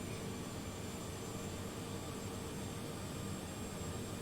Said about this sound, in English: I love the way these engines sound, chat. They sound really good.